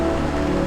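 Dense, steady patter of rain falling on a foggy mountain hike in Rocky Mountain National Park, a loud, close, continuous hiss with no pauses.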